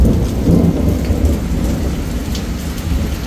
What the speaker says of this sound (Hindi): भाई साहब बड़े खतरनाक आवाज आ रही है आसमान की।